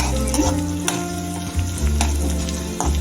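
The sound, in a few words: curry leaves frying in a pan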